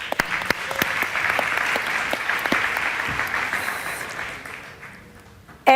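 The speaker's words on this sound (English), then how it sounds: "So please, an applause" Audience applause for a panel speaker at a startup conference panel on Industrial Revolution 4.0, a sustained moderate patter of many hands that gradually fades before a sudden voice cuts in.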